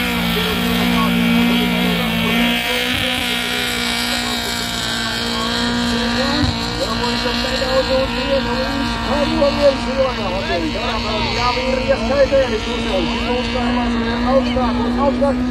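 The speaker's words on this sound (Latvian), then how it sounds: "mašīnas joprojām mēģina tikt augšā kalnā" Rally cars labor uphill at an autotrack race on Briežkalns hill, engines droning steadily at a distance with occasional revving surges, while a commentator talks over the whole stretch.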